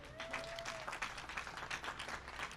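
An audience applauds to welcome New Jersey Governor Phil Murphy at a restaurant relief bill signing, a faint, even patter of many hands with a brief tone passing early on.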